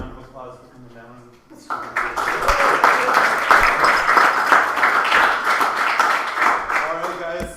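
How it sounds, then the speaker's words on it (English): An audience bursts into sustained applause and clapping after a short stretch of speech, with the clapping continuing steadily to the end and a voice briefly returning over the final moments. "we should give Antoine and Jenny one more round of applause for coming down."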